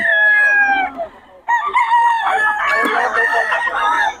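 Young roosters (stags) crowing, two or three overlapping calls close by, one long crow breaking off before others join in a noisy cluster.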